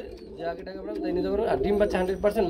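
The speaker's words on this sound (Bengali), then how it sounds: "খুব সুন্দর আমরা এখানে একজোড়া লাক্ষা কবুতর দেখাবো" Lahori pigeons coo in soft, low warbling calls close by, mixed with a murmur of voices in the background.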